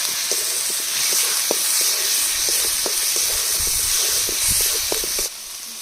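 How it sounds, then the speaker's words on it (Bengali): Spices with cumin paste and coriander powder sauté in oil for a yogurt fish curry, a close, steady hissing sizzle with light stirring taps that cuts off abruptly near the end, no voices. "এক চামচ ধনে গুঁড়ো মশলাগুলো কষিয়ে নেবো"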